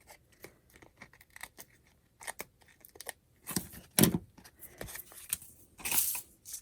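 Chic scissors snip and cut through paper in a craft session, with irregular crisp clips and rustling bursts, some louder near the end, alone without talk.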